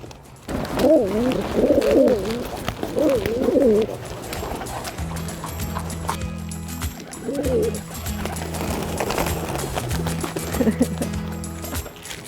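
Pigeons cooing and fluttering in Seville early in the morning, hungry before they are fed, with repeated coos and wing flaps close by over a steady low background hum.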